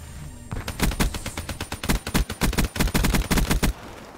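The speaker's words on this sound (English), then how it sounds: "Okay, I just wanted to shoot that for a little bit of fun." Rapid bursts of automatic gunfire ring out in Call of Duty Black Ops III multiplayer, sharp repeated shots in quick rhythmic volleys, loud and close, with no talking.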